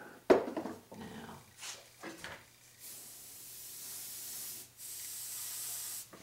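Paint misted from a spray can onto a Doctor Doom costume piece, with a few short sharp bursts early on and then a long steady hiss that breaks briefly before continuing.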